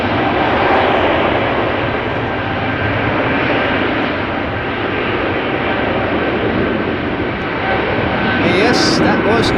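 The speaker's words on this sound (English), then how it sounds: "that was Ita Blue coming to a runway near you" An ITA Airways airliner approaching the runway at Amsterdam Schiphol Airport, its engine roar loud, steady and broad for the whole stretch, with a brief brighter noise near the end.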